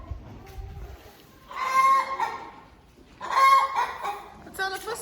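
A hen clucks loudly in two long agitated bursts followed by a shorter one, close by, with quiet gaps between the outbursts.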